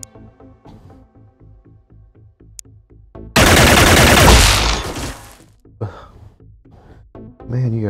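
Gunfire from the Xenonauts video game: a loud, dense burst of shots erupts midway and lasts about two seconds, then trails off, set against a steady rhythmic game soundtrack before and after.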